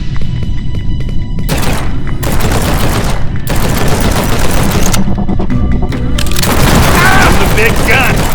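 Heavy gunfire in the video game G2 Fighter: loud, dense bursts of booming shots and rapid automatic fire continue throughout, with short gaps between volleys, while a voice speaks over part of it.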